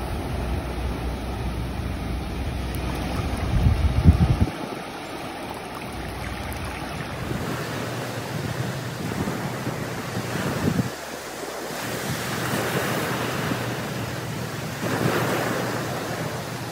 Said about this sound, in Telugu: ఆ అట్లాంటిక్ సముద్రం కాళ్ళు కడుగుతున్న ఫీలింగ్ వచ్చింది